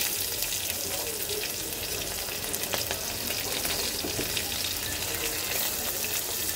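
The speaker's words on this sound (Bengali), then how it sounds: "মাছ ভাজা তেলের মধ্যে দিয়ে দেব রাঁধুনি ফোড়ন আর দিয়ে দেব পেঁয়াজ কুচি।" Chopped onion and radhuni seeds sizzle in leftover oil from frying singh fish, a steady, close, crackling fry that runs unbroken with no talking.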